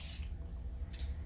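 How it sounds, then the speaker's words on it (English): Makeup setting spray misted onto the face in two short hissing pumps, close to the microphone and quiet. "I'm just gonna spray this just to meld the powders in."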